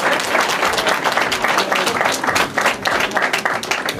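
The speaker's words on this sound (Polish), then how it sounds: "Duże brawa jeszcze dla naszych kandydatów." Loud, dense applause fills the room as an audience claps for candidates at a village head election meeting, a steady crowded patter throughout with no talk over it.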